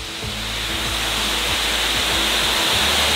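A waterfall pouring into a pool, a loud, steady broadband rush of falling water heard up close, with no talking.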